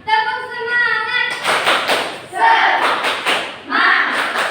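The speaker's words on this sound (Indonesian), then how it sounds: "Coba kita tepuk semangat dulu. Tepuk semangat." A primary class in an Indonesian language lesson does a rhythmic 'tepuk semangat' cheer, with bursts of group clapping and chanting voices alternating in short patterned phrases, loud and close.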